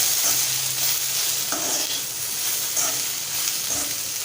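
A spoon stirs masala into tomato and okra bhaji in a hot pan, making about four rhythmic scraping strokes over a continuous close sizzle, with no voices.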